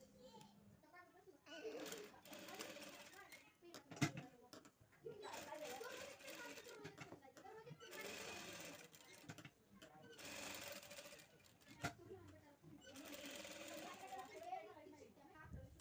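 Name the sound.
sewing machine stitching a blouse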